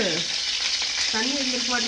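Oil spatters and sizzles hard in a cooking pan while a curd curry is being made, a loud, continuous crackle with a faint voice briefly audible underneath.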